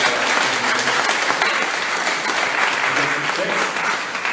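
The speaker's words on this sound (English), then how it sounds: "another round of applause to City Councilwoman" An audience at a mayoral campaign event gives a City Councilwoman a sustained round of applause, thick, even clapping close and loud from start to finish with some voices mixed in.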